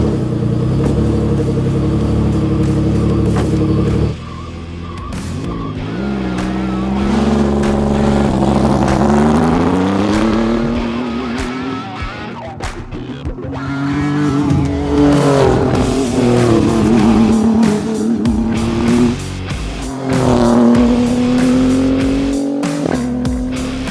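A Renault RS01 race car in Pikes Peak kit revs hard and loud at close range, its engine note rising and falling through several sustained sweeps with harsh mechanical roar.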